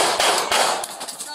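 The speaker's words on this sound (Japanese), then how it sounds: "Shots fired! Shots fired!" Rifle gunshots ring out during a police shootout at a trailer home, with several rapid, harsh cracks packed into a dense, noisy burst close to the listener.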